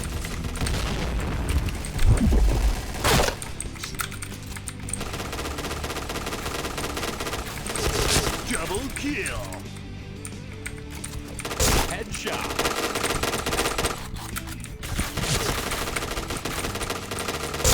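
Rapid automatic gunfire and booming shots from the Point Blank shooting game fill the clip in loud bursts, with a player talking excitedly over the action.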